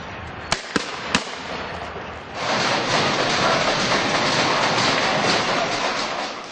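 Fireworks set off by protesters against police during street clashes: three sharp cracks early on, then a loud sustained crackling barrage of bursts, with no talking.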